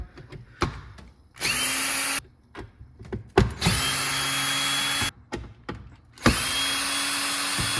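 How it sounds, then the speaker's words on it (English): A power drill whirs in three sustained bursts removing screws from a Wolf built-in oven handle, each winding up to a steady high whine, with clicks and handling noise in the gaps. "Got my drill gun."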